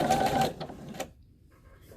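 A domestic sewing machine stitches flannel for a small doll pillow, running in a dense, rapid whir for about half a second, then ticking briefly and falling quiet.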